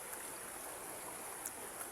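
Steady rush of river water flowing over rocks at Bluerock in Rodriguez, Rizal, a constant close hiss with no voices.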